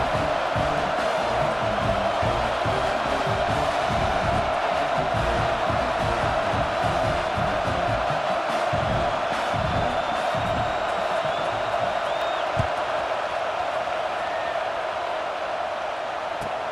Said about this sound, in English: boy, did that last drive quiet this crowd